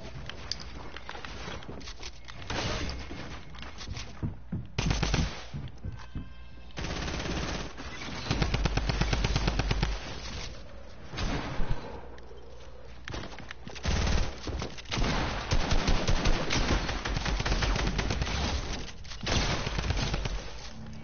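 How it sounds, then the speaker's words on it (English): Drum gun spraying in a video game, long rapid bursts of automatic fire with brief breaks, loud and close, repeating across the stretch with faint movement sounds between. "Cordier is not allowed to use drum guns anymore"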